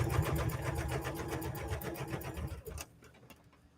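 Sewing machine stitching the binding onto a bear quilt wall-hanging, a close, loud, rapid rhythmic whir that runs steadily and then stops abruptly near the end.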